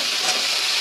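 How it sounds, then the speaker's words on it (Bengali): Potatoes and pointed gourd frying in oil for a hilsa fish-head curry, giving a continuous even hiss of close sizzling with no voices. "এগুলো আগে আমায় ভালো করে ভেজে নিতে হবে।"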